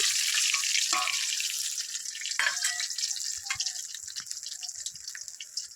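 Hot oil sizzles and crackles loudly as five-spice seeds, whole dried chillies and bay leaves hit the pan, the hiss gradually easing, with scattered pops and light clinks.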